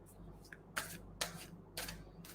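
Tarot cards being shuffled by hand in a quiet room, four crisp riffling bursts spaced roughly half a second apart, close and clear with no voices.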